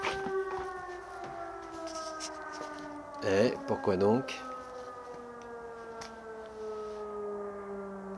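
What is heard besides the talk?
siren sounding at the end of Shabbat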